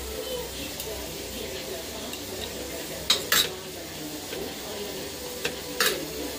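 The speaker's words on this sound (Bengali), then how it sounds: "পনিরটা এখন ভেজে নেব" Salted paneer fries in a pan, with a continuous sizzle under sharp metal spatula scrapes and clinks against the pan in several quick bursts, close and fairly loud.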